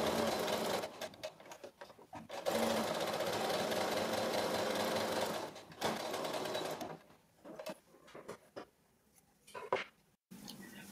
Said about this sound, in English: Now sew the long sides of the triangle at 1/4 inch seam